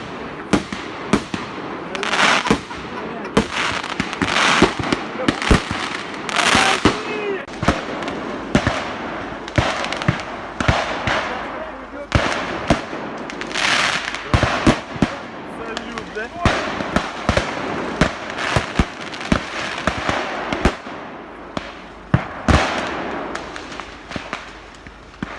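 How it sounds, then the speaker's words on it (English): Fireworks detonating inside a truck that caught fire while driving, a rapid, irregular barrage of sharp cracks and bangs going on without pause, loud and close, with some crackling in between. "the truck caught fire while it was driving. As a result, the fireworks inside the truck detonated"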